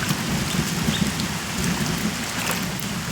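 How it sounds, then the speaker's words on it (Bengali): Heavy rain falls around a flooded area, loud and dense, a continuous close roar of drops striking water and surfaces without pause. "এখনো বৃষ্টি হইতেছে, প্রচুর বৃষ্টি"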